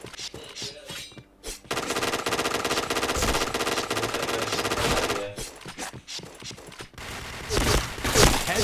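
Rapid automatic gunfire from a video game shooter, long dense bursts of shots with short pauses between them, loud and close, with other game sounds mixed in.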